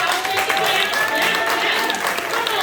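Dense clapping from a crowd welcoming Queen Nola, steady and loud throughout with voices and a few shouts mixed in.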